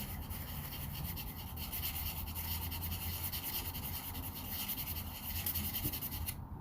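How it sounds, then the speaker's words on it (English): Continuous rhythmic rasping of sandpaper rubbed back and forth by hand over a wooden tobacco pipe, close up, with no talking. "I've obviously got a little bit more hand sanding than I thought"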